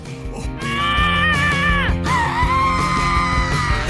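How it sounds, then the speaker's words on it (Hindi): A woman screams loudly in fright, a sustained high shrill cry that wavers, breaks off briefly and resumes, over busy background music. "तुम ऐसे क्यों चिल्ला रही हो?"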